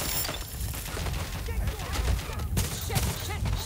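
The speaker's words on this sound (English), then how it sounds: "Shots fired." Gunfire in the video game Watch_Dogs Legion: a dense, continuous spread of shots and impacts, loud and steady, mixed with game sound and voices.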